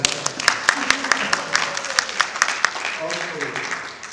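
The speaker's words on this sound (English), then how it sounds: "another round of applause for the help." A room at a partners meeting plenary session breaks into a round of applause, with irregular close claps layered over a steady crowd clapping that tapers off, while voices murmur underneath.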